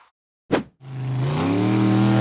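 A red steel-frame off-road buggy accelerates up a tall dirt embankment. After a short sharp burst, its engine rises into a loud, sustained climbing roar close by.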